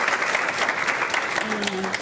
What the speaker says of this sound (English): let's all give a round of applause for my wonderful kids